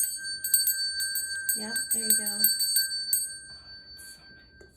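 A small bell meant for hanging on a door rings in bright repeated jingles, close and fairly loud, while a person speaks briefly over it.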